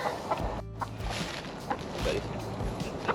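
Chickens being carried in a group cluck and squawk in short bursts close by, with shuffling and handling noises between the calls.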